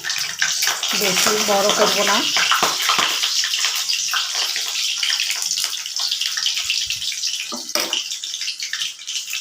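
Loud, steady sizzling of fish roe fritter batter frying in hot oil in a kadai fills the clip while a person speaks briefly near the start.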